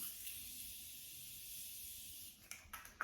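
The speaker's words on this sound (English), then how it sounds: "Morphe setting spray, just set the face and then we're done." A steady, airy hiss of fine setting spray misting continuously over a made-up face for a couple of seconds, then a few short bursts, close and fairly quiet.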